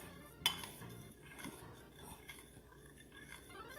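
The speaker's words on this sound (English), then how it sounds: "you stir and stir and stir and stir and stir." A spoon stirs a liquid tofu marinade in a bowl with light clinks and scrapes, one sharper knock near the start, all quiet and close, and no voices.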